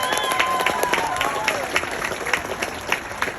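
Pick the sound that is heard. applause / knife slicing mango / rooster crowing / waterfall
applause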